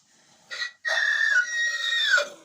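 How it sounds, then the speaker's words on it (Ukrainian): A rooster in an indoor chicken coop lets out a single loud, drawn-out crow nearby, with a short opening note, a brief break, then a long sustained call that drops off at the end. "Десь тут півник співає"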